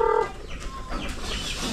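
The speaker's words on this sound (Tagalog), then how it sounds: "Sa mga manok." Domestic chickens cluck and call at afternoon feeding time on a farm, a loud bright call at the start followed by softer scattered clucks close by.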